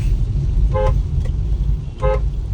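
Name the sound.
aftermarket car horn honking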